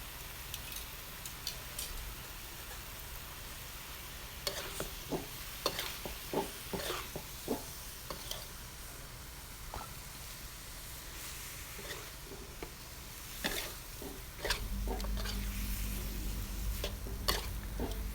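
Quiet sizzling as giant catfish stir-fries with curry paste in a pan, with intermittent scraping and clicking of a utensil stirring, the hiss swelling louder near the end.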